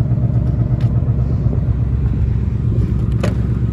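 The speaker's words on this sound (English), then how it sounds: "Love just listening to the old exhaust." Steady low rumble from the exhaust of a 2020 Ford Mustang GT with the 5.0 V8 and manual gearbox, idling close by with an even, throbbing burble and no talk.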